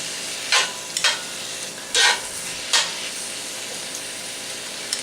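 Cabbage sizzles steadily in a cast iron pan, with several sharp scraping clinks as metal tongs toss it around, close and fairly loud, and no voices.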